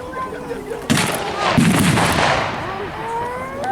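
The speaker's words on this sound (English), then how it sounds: "the German mortar troops are firing from the left-hand side of the field there." Mortar fire from German troops at a WWII battle re-enactment on an open field, two heavy booming blasts rolling into a long rumbling tail, heard from a distance amid outdoor ambience.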